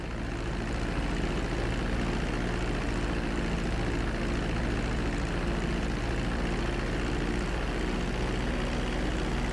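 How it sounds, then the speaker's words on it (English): Airplane in GTA V taxiing on a runway, its engine a steady, loud droning hum with a constant low tone throughout and no voices. "Now let's get the plane off the runway."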